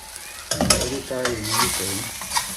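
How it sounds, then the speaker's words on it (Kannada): Okra is fried and stirred in a pan, giving a close, crackling sizzle. A few scraping strokes of a spatula against the metal come in quick bursts. "ಇವನು ಬೆಂಡೆಕಾಯಿ ಉರಿತಾವನೆ"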